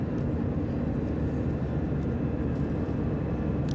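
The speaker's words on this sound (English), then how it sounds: "Our plane landed on the island that's closest to the mainland, San Cristobal." A fixed-wing airplane landing on San Cristobal island in the Galápagos gives a loud, steady low roar of engine and cabin noise that holds evenly throughout, with no talking.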